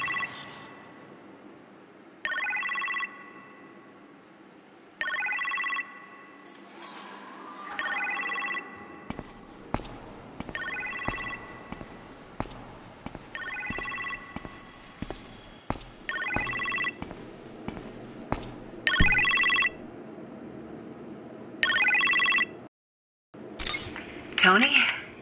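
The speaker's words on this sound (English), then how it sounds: "You appear to have a phone call in the kitchen, sir." Phone ringing in a kitchen in the Iron Man VR video game, repeated electronic ring bursts mixed with game sound effects, with voices talking over them.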